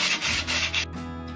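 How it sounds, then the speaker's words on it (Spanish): Coarse-grit sandpaper rubbed over a wooden ship model hull, three quick loud scraping strokes up close, then the rasping drops to a softer, steadier rub. "Ya hemos terminado de lijar con el grano, con la lija de grano gordo, todo el casco"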